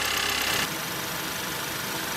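A Ford Escape engine idles steadily with the 8F35 eight-speed transmission being filled with fluid, a continuous low mechanical hum with a brief brighter hiss at the start, no voices.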